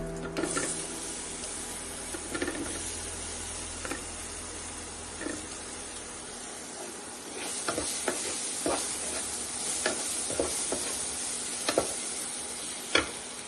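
A chopped tomato added to a hot pan for a healthy salad sizzles softly, with scattered clicks and scrapes of stirring and a few sharper knocks against the pan, quiet and without talk.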